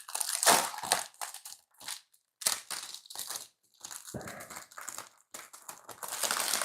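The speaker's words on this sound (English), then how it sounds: "Don't mind all the crinkling." Plastic wrapping crinkles and crunches in close, irregular bursts as a Warhammer Combat Patrol box of Emperor's Children models is opened, with short pauses between the rustling handfuls.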